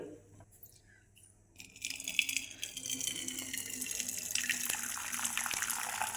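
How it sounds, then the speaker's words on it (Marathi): Water pours steadily in a continuous rushing gush after a brief quiet start, close and fairly loud, as water is poured off boiled spinach. "याचं आपण पाणी ओतून काढूया"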